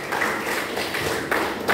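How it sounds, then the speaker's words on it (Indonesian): A classroom of students claps for a presenting group, a short burst of moderately loud applause with a few sharper individual claps standing out. "beri tepuk tangan untuk kelompok ini."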